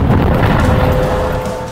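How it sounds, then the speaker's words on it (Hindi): An anti-tank missile strikes a military post on the Lebanon border, a loud booming blast followed by a rolling rumble that slowly fades over under two seconds. "पहले धमाका, फिर पोस्ट का बड़ा हिस्सा ढह जाता है और आग लग जाती है।"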